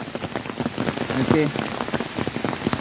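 Heavy rain pours steadily through forest beside a hillside temple with stone steps, a dense close hiss of drops striking leaves and surfaces throughout, with a brief spoken word over it.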